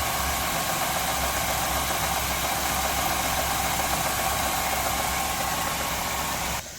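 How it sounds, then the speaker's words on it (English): A car engine idles with a steady, loud mechanical drone and a faint rattle from the tensioners, running without a break until it drops off abruptly near the end. "I think that's tensioners making noise"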